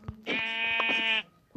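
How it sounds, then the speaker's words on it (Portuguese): A single sheep in the Minecraft video game gives one clear, close, wavering bleat about a second long, with soft clicks around it. "Ovelhas."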